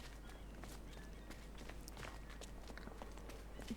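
Footsteps in The Unfinished Swan video game tap out a steady, fairly quick walking rhythm, soft and close, over a quiet low hum with no talking.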